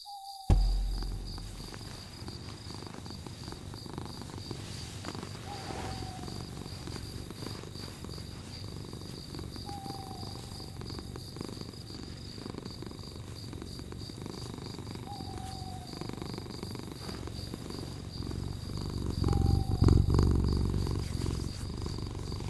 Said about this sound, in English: You want to hear the cat purr?